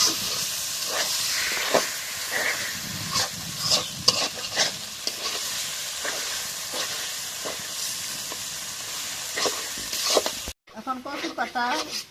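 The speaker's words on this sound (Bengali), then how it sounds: "এখন এই কচু পাতাগুলো এই তেলের মধ্যে দিব দিয়ে নাড়া দেবো" Taro leaves are stirred in hot oil, giving a loud, continuous sizzle and hiss with repeated spoon scrapes and clatters close by, and the sound cuts out briefly near the end.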